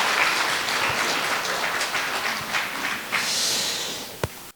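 Steady applause from a crowd at a large Buddhist ceremony marking the Jogye Order's 30th anniversary, a dense wash of clapping that holds for several seconds and then tails off with a single sharp knock near the end.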